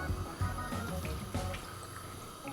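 A cup of water pours into a baking mixture of dried fruit and dates and partly spills. The splash and trickle come in short bursts, close and fairly quiet, with no speech.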